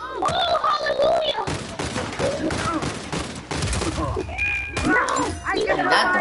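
Pistol fire from the video game Uncharted 4, several sharp shots in quick bursts mixed into busy game sound, with people talking loudly over the top.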